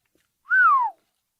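A person whistles one clear, loud, close note that slides up and then glides down for about half a second, alone in silence.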